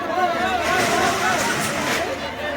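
Dense crowd hubbub at an Eid gathering in Latur, with many overlapping voices and traffic-like background noise forming a steady wash of chatter throughout.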